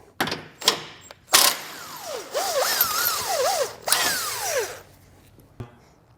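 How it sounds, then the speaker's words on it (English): A power impact tool with a 21mm socket backs out a factory subframe bolt on a 2023 vehicle, with sharp hammering bursts, whirring spin-ups with shifting pitch and ratcheting clicks, close and loud. "So this bolt will pull out using a 21mm socket."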